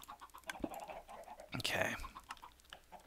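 Chickens in the Minecraft video game cluck softly a few times amid faint movement sounds, with a person briefly speaking.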